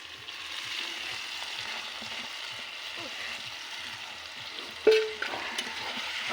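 Tomatoes dropped onto chopped onions already frying in a pan, a soft, steady sizzle with light stirring scrapes close by and one sharper clatter partway through, no talking.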